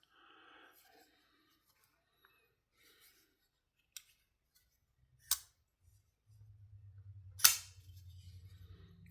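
A Beyond EDC Custos folding knife with steel liners snaps open and shut in sharp, isolated clicks close by, three crisp snaps spaced over a few seconds, then a low hum as a faint soft voice murmurs.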